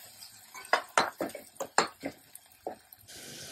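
Tomatoes with salt and turmeric being mixed in a pan: a series of about a dozen close, wet scrapes and clinks of a spoon against the metal, irregular in rhythm, with a steadier hiss rising at the end.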